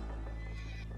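A brief, loud horse whinny with a rough, shaky pitch, close by, over a dense background of Red Dead Redemption 2 game noise.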